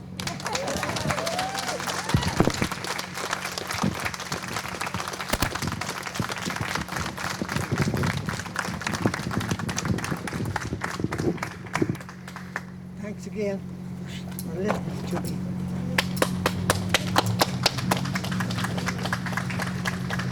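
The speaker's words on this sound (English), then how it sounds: "Huge round of applause." An outdoor crowd on a history tour of Woodland's Deadcat Alley claps after a talk, scattered sharp hand claps rising and falling over a steady low hum, with a speaking voice heard between bursts.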